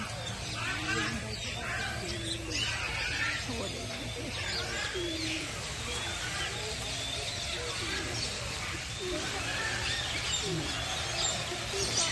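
Birds coo and chirp steadily in the background of a bird park in Pakistan while people talk over a constant low hum, with calls scattered throughout.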